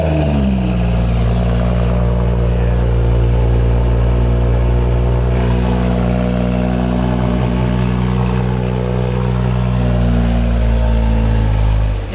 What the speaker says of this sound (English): the first start up with the Pure 800 turbo